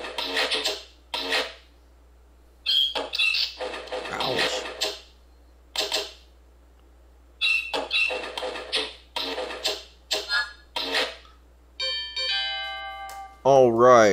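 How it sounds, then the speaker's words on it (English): A bell rings in the strategy video game Stronghold, a bright tonal chime with ringing overtones near the end, following a stretch of intermittent in-game voice and effects sounds. "that bell means we've done it"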